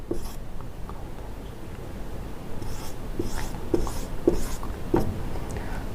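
A pen writing numbers by hand on paper during a mutual fund calculation makes soft scratching strokes with light taps, steady and close, with no voices.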